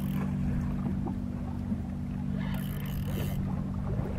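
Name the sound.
fishing boat motor running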